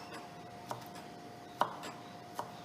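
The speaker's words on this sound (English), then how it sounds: "Then I'm going to cut into strips, and this one into strips" Knife slicing potato into strips on a cutting board, a few faint, sparse chopping taps against a quiet background.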